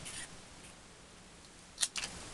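Scissors snip through craft material for a canvas project, quiet room tone at first, then two or three crisp close cuts near the end, with no talk.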